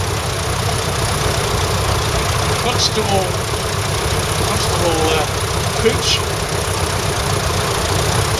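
Vintage tractor engines idle at the Malvern Autumn Show in Worcestershire, a loud continuous low rumble throughout, with someone speaking over it.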